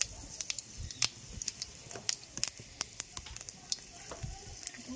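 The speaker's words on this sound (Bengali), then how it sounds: "তো দেখুন আমি দিয়ে দিচ্ছি 5 ফোড়ন" Panch phoron, the Bengali five-spice mix, crackles in hot oil in a home kitchen, faint scattered pops and a light continuous sizzle, with no talk.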